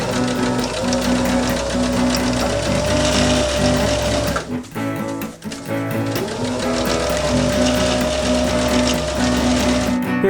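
A sewing machine stitches the outline of a doll in fast, steady mechanical bursts, pausing briefly midway before resuming its loud, close whir.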